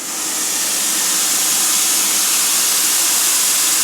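Marinated flank steak with rosemary sizzling on a hot grill, a loud steady hiss that swells in at the start and holds evenly with no talking.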